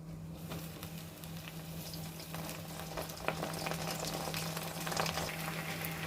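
Hibiscus flowers and leaves frying in herbal hair oil over a low flame make a continuous soft bubbling sizzle with faint crackles, fairly quiet and steady throughout.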